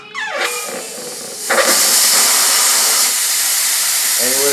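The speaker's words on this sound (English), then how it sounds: "Crack this valve, let this air go out slowly." Compressed air hisses steadily out of a slightly opened valve on a Blitz .30 caliber airgun, a loud continuous broadband rush that swells after a brief start and keeps going, with a short voice near the end.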